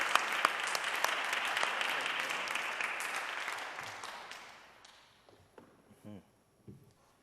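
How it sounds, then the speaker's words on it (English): Audience applause for a panelist at a public program on youth incarceration, dense clapping that fades away over several seconds, leaving a few scattered claps and faint sounds. "Please give a round of applause, Marlin Dixon"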